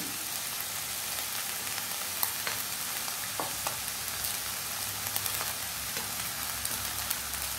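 Chicken fried rice sizzles and crackles in a hot pan as it is stirred, a steady close hiss with scattered sharp pops and scrapes throughout.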